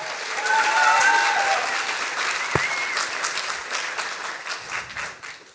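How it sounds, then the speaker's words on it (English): A science slam audience claps steadily for a speaker taking the stage, a full, even burst of applause with a faint whistle early on and a voice briefly heard beneath it. "Big applause for Alice Podestà."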